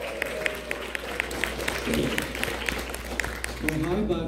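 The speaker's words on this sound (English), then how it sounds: "Round of applause, everybody." An audience at a screening of The Room in Baton Rouge claps for a guest's introduction, scattered sharp claps rising and falling beneath someone talking over them.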